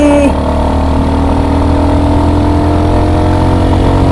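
A new motorcycle engine drones steadily at close range during a Sunday ride toward Khandala, with a brief pitch drop near the start as a gear changes, then a constant loud hum.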